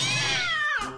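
A cat meows loudly and alone in one drawn-out, falling cry that ends in a short upward chirp.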